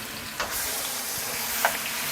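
Curry powder sizzles in hot oil in a pan for Jamaican goat curry, a steady close hiss of frying with a couple of faint clicks, no talking.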